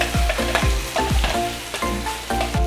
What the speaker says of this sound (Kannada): ಈಗ ರೆಡಿಯಾಗಿರೋ ಉಪ್ಪಿನಕಾಯಿಯನ್ನು ಈ ಒಗ್ಗರಣೆಯ ಬಾಂಡಿಗೆ ನಾವು ಸೇರಿಸ್ಕೊಂಡಿದ್ದೀವಿ.